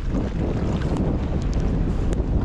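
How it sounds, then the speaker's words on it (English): Strong wind blowing across water on a rainy fishing trip in Texas, a loud, constant roar buffeting the microphone with no pauses or talking. "Wind's blowing this way."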